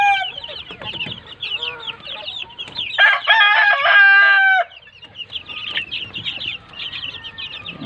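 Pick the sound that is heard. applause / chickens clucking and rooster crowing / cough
chickens clucking and rooster crowing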